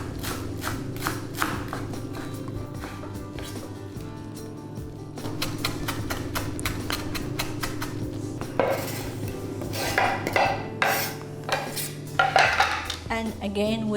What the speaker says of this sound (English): it has to be chopped really fine